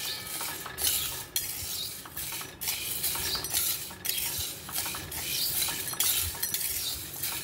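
Black lentils dry-roasting in a pan are stirred with a metal spoon, giving repeated scraping strokes and light clinks in a steady rhythm, close and with no talk.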